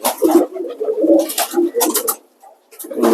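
Racing pigeons coo in a loft, with soft, low, throaty calls rising and falling in overlapping bursts, close by, with a brief lull near the end before the cooing resumes.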